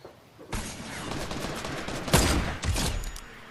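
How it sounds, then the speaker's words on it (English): Burst of gunfire in the Fortnite battle royale game, starting abruptly and rattling on with several sharper, louder cracks near the end, close and punchy with no talk. "Sniped him in his face."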